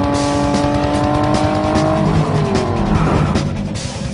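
A cartoon car speeds up with a rising engine whine and screeching tires, loud and close, the pitch climbing and shifting as the vehicle accelerates, then easing toward the end.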